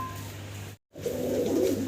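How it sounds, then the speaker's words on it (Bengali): A king pigeon coos in low, throaty bursts nearby, with a short silent break before the cooing resumes louder. "একজোড়া কিং কবুতর নর অস্থির ডাকাডাকি ডাকতেছে"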